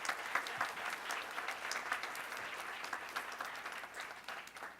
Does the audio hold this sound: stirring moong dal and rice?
no